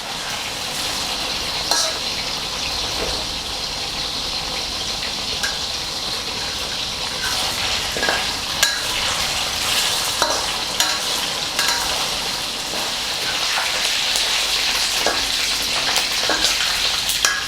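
Pork belly frying in fish sauce with only a little oil, stirred often in the pan: a continuous loud sizzle and bubbling with repeated scraping and stirring knocks, no voices.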